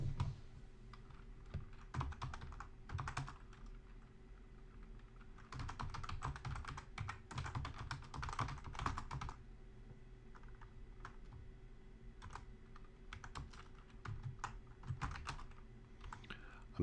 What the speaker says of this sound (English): I'm typing here R number 1